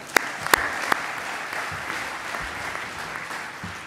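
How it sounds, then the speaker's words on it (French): Applause from an audience at the close of an evening corporate event, a steady wash of clapping with a few sharp, distinct claps standing out near the start. "vous pouvez vous applaudir"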